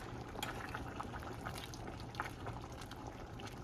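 Cabbage boils in a pot of water with bacon, peppers and spices, giving a faint, continuous bubbling simmer with small pops scattered throughout and no talk.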